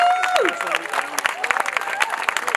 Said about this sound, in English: can I just have a massive round of applause for Mark Edwards and David Curtin of the Heritage Party